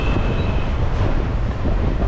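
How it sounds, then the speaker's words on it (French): Strong 24-knot headwind buffeting a sailboat at sea off the Antilles, a loud, continuous roar of wind across the microphone with a steady low rumble of water and hull throughout. "24 nœuds là, vent de face."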